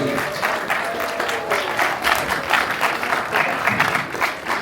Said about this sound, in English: Let's have a great big round of applause for your amazing artist, Katie, everybody.